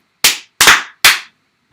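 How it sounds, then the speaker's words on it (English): Three crisp, loud hand claps ring out close by, the first standing alone and the next two following at an even pace, each dying away quickly into silence. "You just clapped."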